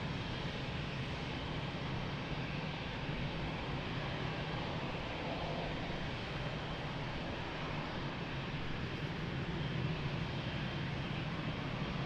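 Steady, loud broadband roar of airplane engines at Lisbon Airport, a continuous throbbing rumble filling the whole span with no break.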